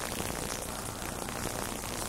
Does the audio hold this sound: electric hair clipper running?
no